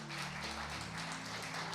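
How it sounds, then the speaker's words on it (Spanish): Congregation applauding at a Spanish-language church service, a steady dense wash of clapping with faint sustained tones from music underneath, continuous and moderately loud throughout. "¿Le puede dar un fuerte aplauso al Señor por eso?"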